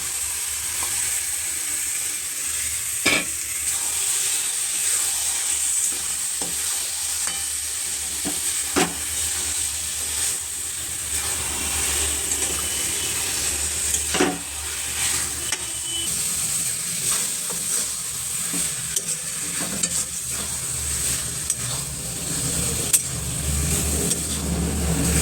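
Mutton fries in spiced oil, a steady hiss of sizzling that runs throughout with occasional sharp clinks of a spoon or pan over the continuous frying noise.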